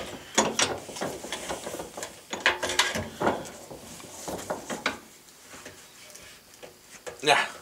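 A ratchet wrench with an extension works at a stubborn bolt on a car radiator, producing close bursts of sharp ratcheting clicks with pauses between them and a voice in between.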